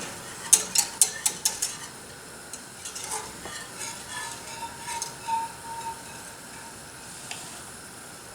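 A spoon stirs keto blackberry jelly in a pot, with a quick run of sharp clinks against the pot near the start, then softer scraping and bubbling stirring sounds that continue steadily and moderately close.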